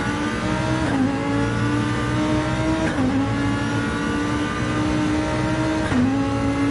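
Gran Turismo-style Group 3 race cars at Bathurst in a racing video game, engines droning loud and steady close by, with gear shifts about every two to three seconds and no voices.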